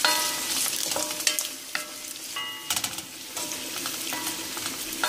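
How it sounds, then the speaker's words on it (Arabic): Garlic, diced vegetables and peppers frying in a pan, a steady close sizzle with scattered clinks and scrapes as they are stirred. "وهحط الفلفل وهديها تقليبه كده"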